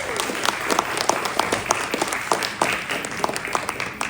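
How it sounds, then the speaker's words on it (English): Audience applause at an indoor gathering, a dense, steady wash of many hands clapping close by that carries on evenly for several seconds with no talk over it. "Please give yourselves a round of applause."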